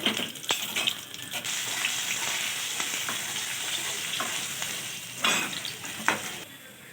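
Chopped garlic, ginger and chili fry in a wok for chilli chicken while being stirred, a steady close sizzle broken by several scraping spatula strokes and a few louder bursts.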